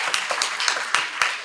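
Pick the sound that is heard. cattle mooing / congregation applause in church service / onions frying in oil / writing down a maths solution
congregation applause in church service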